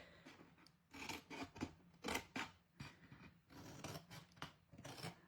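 Scissors snipping paper card beside a score mark for a gift box and attached card: a quick, uneven run of close, crisp cuts and rasping blade strokes, with no talking.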